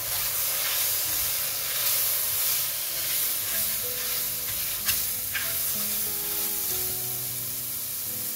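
Vegetarian mushroom stems sizzle steadily in a hot pan alongside softened shiitake, with continuous frying hiss, stirring scrapes and a couple of sharper clicks near the middle.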